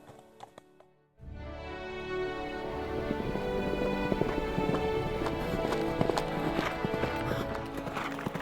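Horse hooves clip-clop steadily on firm ground, likely at an eventing competition, with dense overlapping beats over a busy, continuous background after a quiet opening second.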